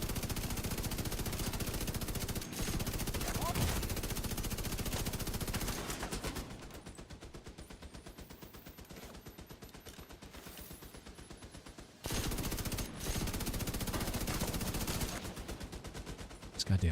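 Turrets fire in the Division 2 shooter game, loud sustained bursts of rapid gunfire that drop to a quieter stretch mid-way before heavy firing resumes.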